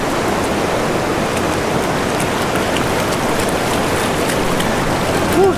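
Cold water swishes and sloshes steadily as sandy gold paydirt is panned by hand, a continuous close wash of noise.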